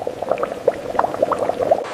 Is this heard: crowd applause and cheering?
no